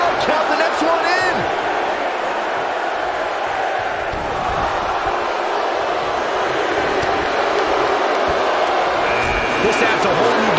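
A large video game wrestling crowd roars continuously in WWE 2K19, with rhythmic chanting counting along rising through the steady noise and faint commentary mixed underneath.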